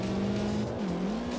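A video game car racing on a GTI Club rally course, a steady engine drone whose pitch dips then rises again, with no talk.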